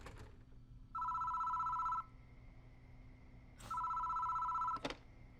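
A telephone rings in a phone booth in the horror game Death Mark: two long electronic rings separated by a pause, clear and alone against a quiet hum, with brief clicks.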